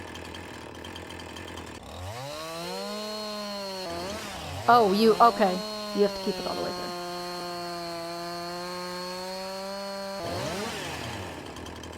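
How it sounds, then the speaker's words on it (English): A chainsaw cuts through a tree trunk in Farming Simulator 19, its engine revving into a steady high whine with rising and falling pitch, sustained for several seconds while a person talks briefly over it. "activate the chainsaw and wait until it has gone through the entire width of the truck"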